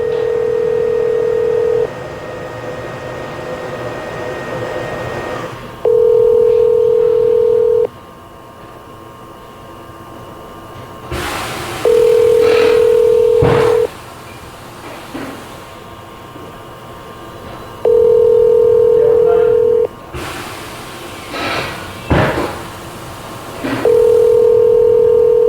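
A telephone call rings out through a handset as a steady tone, repeating in evenly spaced bursts about every six seconds, with quieter line noise between rings and a few faint handling clicks.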